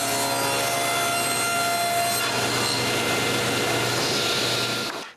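Table saw ripping wood strips for drawer sides in a woodworking shop, a loud continuous whine and rasp of blade through wood, steady throughout and cutting off abruptly at the end.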